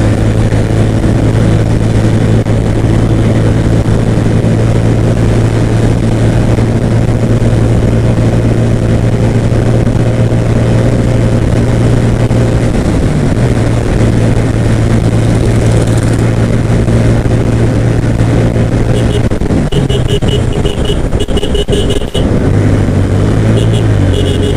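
A Pulsar N160R motorcycle cruises at speed on a highway, giving a loud, constant engine drone with heavy wind rush that shifts pitch briefly near the end.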